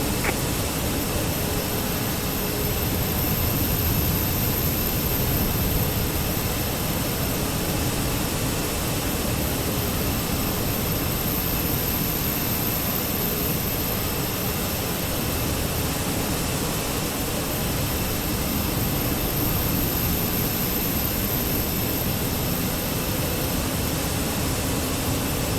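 Continuous broadband roar of an airliner's jet engines spooling up after pushback at Copenhagen Kastrup, steady and loud throughout with no voices.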